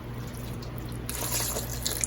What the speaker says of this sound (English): I got my chicken stock right here, and I'm just gonna pour that in gradually just to get a little wetness.